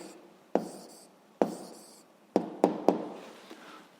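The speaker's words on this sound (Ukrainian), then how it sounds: "Пишемо відповідь." A pen writes an answer by hand on paper during a school physics exercise, giving a few distinct scratchy strokes and taps separated by short pauses, close and quiet, with no voice.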